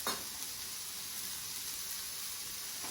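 Prawns and vegetables stir-fry in a pan over high heat, giving a steady, loud, broadband sizzle that holds evenly for about three seconds with no voices.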